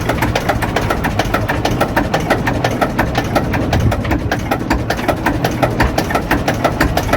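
A Lister JS3 engine of about 40 horsepower runs steadily on a canal boat, a loud, close, rhythmic diesel chugging with even repeating knocks and no talk.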